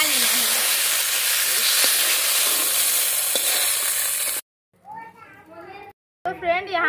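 Fish pieces frying lightly in a pan give a steady loud sizzling hiss for several seconds, then it cuts off and a voice speaks alongside clattering as the pieces are lifted out.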